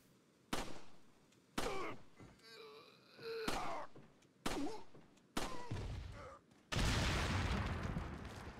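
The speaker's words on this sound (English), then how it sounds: "Wow, this was a really delayed explosion." In Resident Evil 4, a delayed explosion finally erupts as a loud, sustained roar of noise, following several sharp, separate bangs and game sounds.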